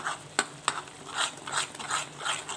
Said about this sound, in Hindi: मैंने सारे मसाले एक साथ डाल दिए हैं इसमें। अब मैं करूँगी मिक्स अप।